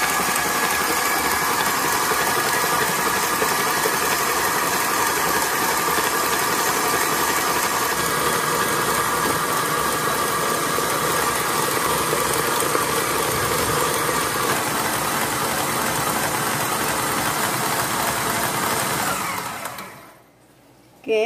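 An electric mixer beats steamed sponge cake batter at high speed, a dense, steady whirring buzz that runs unchanged for about twenty seconds before cutting off abruptly near the end.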